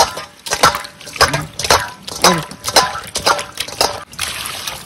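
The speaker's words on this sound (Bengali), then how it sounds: "মাছ পরিষ্কার করার জন্য একটু নুন দিয়ে ধুয়ে নেবে তোমরা মাছটা" A fish is rinsed by hand with salt under water, making repeated close splashes and sloshing bursts in an uneven rhythm. A run of trickling water closes it out.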